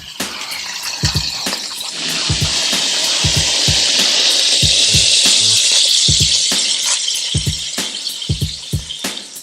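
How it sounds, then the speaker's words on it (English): Steady broadband sizzle of bacon frying in a pan alongside a pot of boiling water in a kitchen, loud and continuous, with intermittent low thumps and clatter underneath. "I got water boiling, I got bacon frying."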